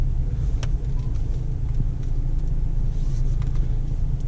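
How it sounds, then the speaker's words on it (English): A Dodge Hellcat's engine rumbles steadily at close range with a low, continuous growl as the car reverses into a parking spot, the loudness holding even throughout. "I gotta park this car because I don't want to curve these rims"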